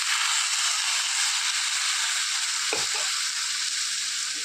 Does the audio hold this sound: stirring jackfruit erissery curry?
yes